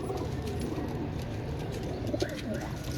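Teddy pigeons, a long-legged fancy breed kept as pairs with females, coo softly and repeatedly at close range over a low background murmur, with a few brief chirps.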